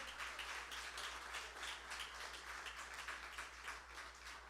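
Steady applause from a church congregation, a dense continuous patter of many hands clapping at moderate loudness, with a low hum underneath.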